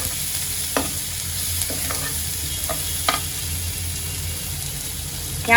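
Chopped onion frying in hot oil in a pan, with a constant close hiss of sizzling and a few sharp scrapes of a spatula spread through it. A louder clatter comes at the very end, and no one talks.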